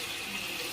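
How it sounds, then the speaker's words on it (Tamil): Water poured into a pan of potato masala as it cooks, a steady hissing wash of running liquid heard alone and fairly close, with no talk. "மசாலாவுக்கு தேவையான தண்ணி ஆட் பண்ணிக்கலாம்."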